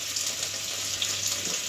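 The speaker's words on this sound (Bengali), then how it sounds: "পেঁয়াজ আদা একটু ডিম ভেজে দেবো" An egg fries with chopped onion and ginger in a pan, giving a soft, continuous sizzling hiss that holds steady and quiet throughout, with no talking.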